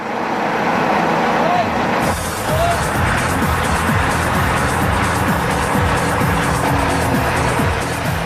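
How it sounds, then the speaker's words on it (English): A loader pulling a house-moving rig up a muddy hill on a foggy site, its heavy engine droning loud and steady, with a narrator's voice over it. "Bill needs the loader to pull the rig up the hill"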